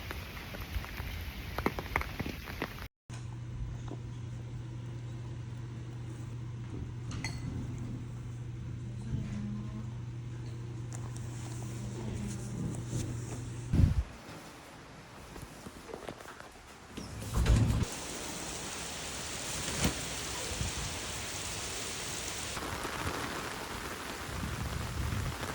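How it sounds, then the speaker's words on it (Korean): Steady heavy rain pours down outdoors on a rainy day, a dense continuous hiss lasting throughout, with a low hum for a stretch and a couple of louder bumps partway through. "빗소리를 들으면서 사바아사나를 할 수 있을 것 같습니다."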